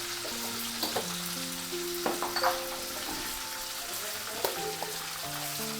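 A bay leaf, a dried chili and panch phoron sizzling in hot oil while cooking a shrimp and banana stem dish, a low steady crackle with occasional sharp clinks from stirring, with background music running under it.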